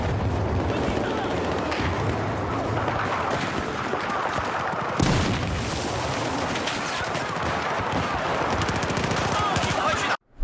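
Battlefield 4 game combat with a Remington 870 pump shotgun fired at point blank while clearing a building, heard as dense, continuous gunfire and booms, loud and cluttered, with a voice talking over it before an abrupt cut.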